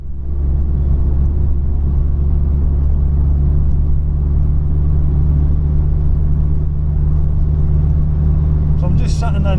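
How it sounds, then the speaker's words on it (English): A Vauxhall Cavalier CD with a 2.0 16V C20XE engine cruises steadily in fifth gear, its loud, constant droning hum and road rumble filling the cabin without letup, with a brief rattle near the end. "So I'm just sitting in 5th gear, cruising along at the moment."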